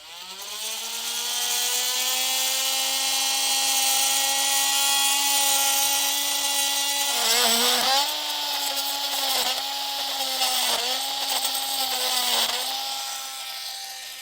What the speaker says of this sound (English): I'm just going to use a multi-tool